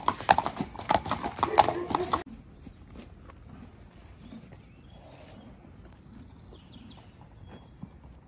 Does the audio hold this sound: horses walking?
yes